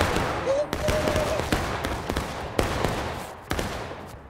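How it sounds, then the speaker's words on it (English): Rifles fire in the Civil War video game War of Rights, with sharp shots cracking out irregularly as sporadic gunfire, some near and some farther off, over a noisy battlefield background. "Just keep shooting, keep shooting."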